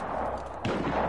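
Gunfire from the open-world action game Just Cause 3, a sharp burst of shots cutting in partway through over a steady wash of in-game background noise.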